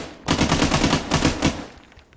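Burst of automatic machine gun fire in the military video game ArmA, a rapid continuous rattle lasting over a second, loud and close, then fading out.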